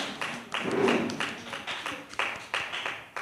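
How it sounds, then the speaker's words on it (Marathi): An audience at a gathering applauds a speaker in uneven bursts of hand clapping, moderately loud and fairly close, rising and falling several times with no talking over it. "ताईंसाठी जोरदार टाळ्या वाजूया"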